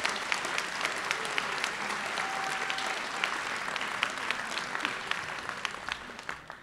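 Sustained applause from the audience at an upper school senior class night, steady dense clapping with occasional sharper individual claps standing out throughout.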